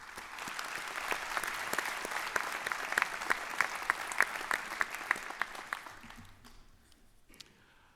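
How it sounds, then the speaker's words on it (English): Applause from a commencement audience, sharp individual claps standing out over a broad crowd of clapping that holds steady before fading away near the end. "Let's give him another round of applause, please."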